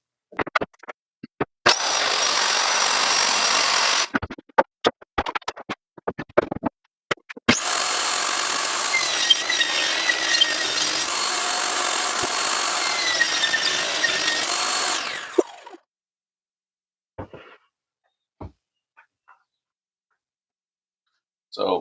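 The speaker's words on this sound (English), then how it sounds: "get those little parts over to the CNC, so that way I can get these items cut out" A hobby CNC router cuts small wooden parts in a workshop, giving a steady high-pitched whine in two long passes, one short and one about eight seconds, with clicks between them and quiet gaps after.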